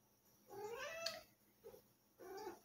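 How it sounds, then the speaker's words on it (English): A distressed cat meows nearby: two long, wavering, complaining cries separated by a short chirp, in a quiet indoor room. "take my cat out so he'll stop freaking out"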